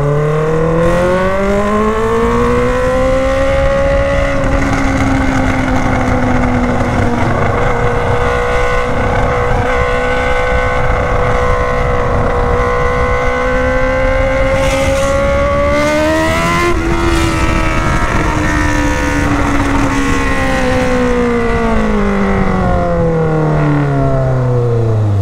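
Honda Hornet motorcycle with a straight exhaust pipe accelerating hard along a highway, a loud sustained engine roar rising and falling in pitch through gear changes, no speech.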